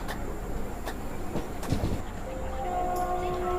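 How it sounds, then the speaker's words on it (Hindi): An Indian Railways train heads toward Chandigarh, rolling with a continuous rumble and rail clatter heard from inside. A few sharp clanks punctuate it, and a sustained horn-like tone enters near the end. "हमारी ट्रेन अब निकल चुकी है चंडीगढ़ की तरफ।"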